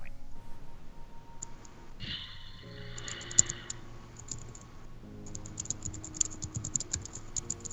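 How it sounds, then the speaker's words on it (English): Bursts of computer keyboard typing, with quick clicking keystrokes coming in clusters, pausing briefly, then resuming, heard close against a faint background of other ticks and rattles. "So much typing."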